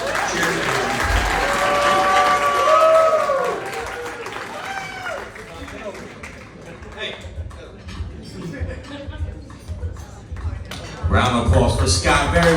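Wedding guests at a reception applaud warmly after a toast. Dense clapping with a whistle and cheering voices fills the room, dips for a stretch under chatter, then swells loud again at the end.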